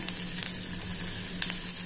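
Steady, loud sizzling of chopped onions frying in a hot pan, close up, with faint stirring scrapes and no talking.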